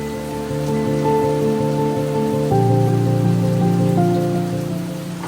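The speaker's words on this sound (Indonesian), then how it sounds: "Tiba-tiba hujan turun." Rain drumming steadily on the body of an Ioniq 5 electric car, a dense, loud, continuous patter heard close up that grows slightly heavier midway, with a faint tonal hum beneath and no talking.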